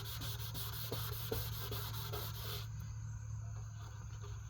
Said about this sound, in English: you need to keep your sandpaper and keep your headlight wet